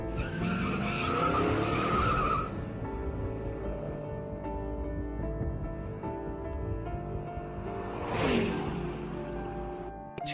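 A car skids with loud tire squeal and engine noise, then the sound eases into a lower rumble before a second sharp screech, all close and without talk.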